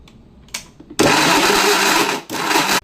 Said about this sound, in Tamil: இப்போ இதை நல்லா ஃபைனாக கிரைண்ட் பண்ணணும்.